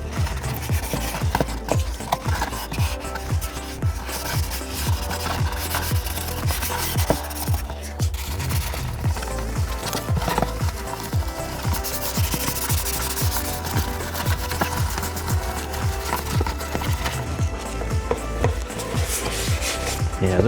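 Steady back-and-forth rubbing of sandpaper over the seams of a foam clay Silent Hill 2 bubble head nurse figure, with quick repeated strokes running close and continuous throughout, no talking.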